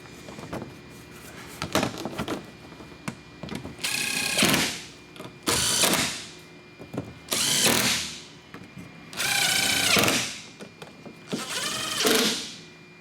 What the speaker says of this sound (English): Now I'm using a long, probably foot-long extension to get the ones by the sway bar way up here.